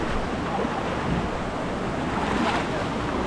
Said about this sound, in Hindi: वाव हिडन झरना।